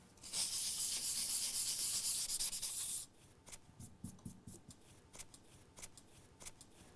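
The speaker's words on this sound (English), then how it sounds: "pry them out and clean the chamber with some fine sandpaper" Fine 400 grit sandpaper scrubs the chamber of an oilless rotary vane vacuum pump, a loud steady rasping burst for about three seconds, followed by quieter intermittent scraping and rubbing strokes.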